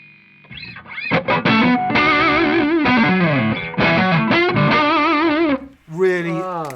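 A Stratocaster electric guitar runs through a distorted, effects-laden pedal and plays a loud, sustained lead line with wavering vibrato bends and brief gaps, close and dominant with no speech.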